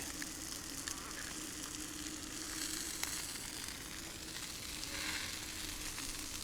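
An egg sizzles in a pan over a campsite cooker in Western Australia, a steady close-up crackle and hiss that holds throughout, with faint brighter spits now and then.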